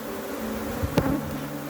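Africanized honey bees buzz softly at close range in Trinidad, a low steady hum with one brief nearby swell as a bee passes.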